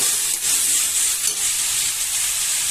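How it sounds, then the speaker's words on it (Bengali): Boiled potatoes being sautéed in a hot pan for a snail curry, giving a steady, loud, close sizzle with faint stirring and no talk. "আলু সেদ্ধ হয়ে গেছে এবার দিয়ে দিলাম আলুটাকে একটু ভালো করে কষে নিয়ে"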